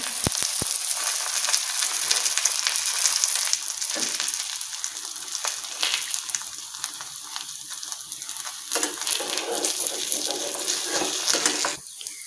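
An egg paratha fries on a tawa with oil or desi ghee, a loud, continuous crackling sizzle that thins out sharply near the end, with no talking.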